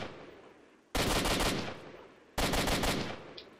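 Two loud bursts of automatic gunfire in S.T.A.L.K.E.R.: Shadow of Chernobyl, each a dense rattle of rapid shots lasting about half a second, separated by a quiet pause, close and without talk.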